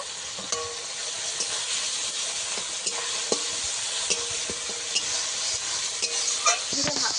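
Ginger paste and tomato stir-fried in a pan for a bhola fish and eggplant curry hiss with a continuous close sizzle, broken by frequent scraping strokes of a spatula.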